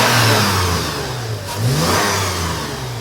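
A Toyota FJ Cruiser engine with its catalytic converter emptied revs up close and loud, a throaty drone that swells into a quick rise in pitch midway before settling back.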